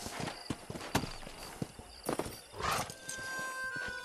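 Horse hooves clip-clop in uneven, close steps in the video game Red Dead Redemption, with a brief whinny partway through, all fairly loud against a game backdrop.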